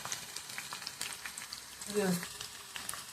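Onion with nigella seeds and fenugreek cooking in oil for homemade hair oil, a soft continuous frying sizzle with a brief louder bubbling burst midway, faint and close.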